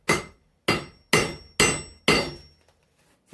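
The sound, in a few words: hammering spring steel flat while forging an axe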